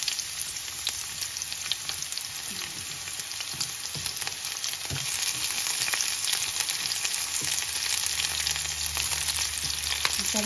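Ginger and onion sautéing in a hot pan, a loud continuous sizzle and crackle with occasional stirring scrapes, close and steady throughout with no talking.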